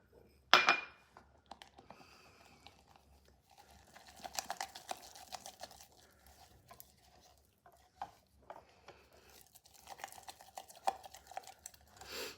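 Sourdough starter being mixed with water in a container: soft intermittent scraping and clinking of a utensil against the vessel, faint and close, with an initial sharp knock and no talk.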